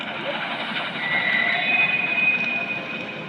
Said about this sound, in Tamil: ஆனால் இப்போ நான் வச்சுருக்க ட்ரெயின் சத்தம்